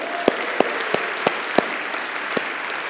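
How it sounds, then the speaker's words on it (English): A church congregation applauds the Road Family Ministry team and volunteers, a broad steady round of clapping with a few sharp, close claps standing out at irregular intervals. "give the Road Family Ministry team and all of the volunteers a huge round of applause"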